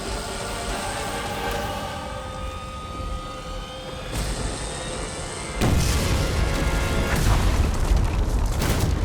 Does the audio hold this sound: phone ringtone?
no